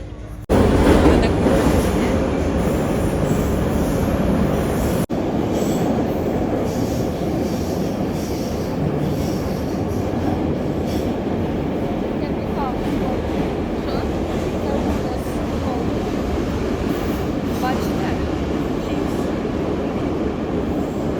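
Metro train riding through a tunnel, heard from inside the carriage: a loud, continuous rumble with wheel squeal and rail clatter throughout, with voices faintly underneath.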